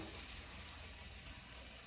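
Steady, continuous sizzling of food frying in extra virgin olive oil, a dense hiss close by with no voices.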